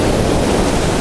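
Rough storm waves at Simeiz, Crimea churn in a dense, steady rushing roar up close, with wind noise mixed in and no one speaking.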